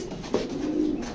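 A big male racing pigeon in a loft gives a single short, low coo close by against quiet background noise.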